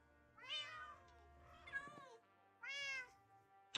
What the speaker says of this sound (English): Bred the kitty cats for now